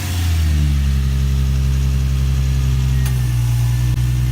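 An Infiniti G35 or Nissan 350Z V6 fitted with Motordyne test pipes idles loud and close, a deep, steady exhaust drone running throughout with a faint click near the end.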